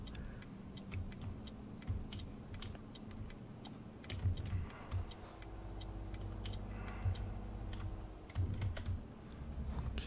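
Computer keyboard typing in quick, uneven bursts of keystrokes, heard during Euro Truck Simulator multiplayer play over a steady low truck engine drone, with no talking.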